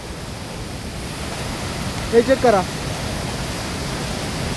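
Rushing floodwater roars steadily through a gorge on the first day of monsoon rain, a loud continuous broadband wash, with a brief spoken voice breaking in midway.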